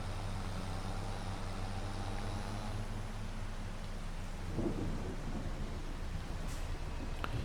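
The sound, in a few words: light rain in Farming Simulator 25 video game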